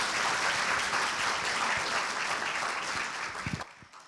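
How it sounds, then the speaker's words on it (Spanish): An audience applauds panelists at the close of a conference session, a steady, moderately distant wash of clapping that thins out toward the end with a few last claps. "un fuerte aplauso nuevamente para nuestros panelistas"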